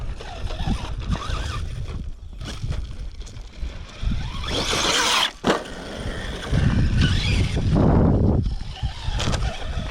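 Large RC monster truck, an Arrma Kraton or Traxxas X-Maxx, bashing outdoors with a jump, steady loud motor whine and rushing wind-like noise, rising and falling, with a sharp impact thud midway and faint voices.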